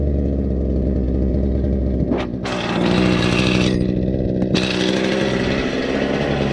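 A Toro 51946 string trimmer running just after a carburetor swap, the small two-stroke engine holding a loud, steady buzzing idle close by with a brief dip in pitch partway through.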